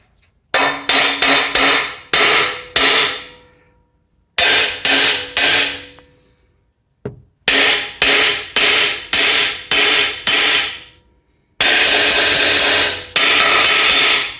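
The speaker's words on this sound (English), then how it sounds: "all else fails, use a hammer." Loud, rapid metal hammer blows in quick bursts of several strikes each, separated by short pauses, with no talking.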